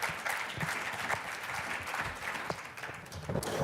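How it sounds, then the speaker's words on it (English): An audience claps for panel speakers after a Q&A session on poverty and public services, a continuous patter of many hands at moderate volume with a slight swell near the end. "A round of applause for our speakers"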